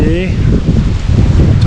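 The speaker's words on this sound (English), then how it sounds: "we have a blustery, windy day" Blustery wind on a cold snowy winter day, around 16 degrees with 20–30 mph gusts, a loud rough roar against the microphone, with a brief bird chirp at the start.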